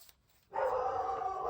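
A dog at home barks at something outside, a single loud sustained bark or whine starting after a brief quiet moment and holding to the end, fairly close.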